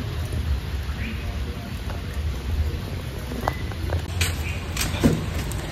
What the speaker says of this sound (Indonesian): karena hujan ini gede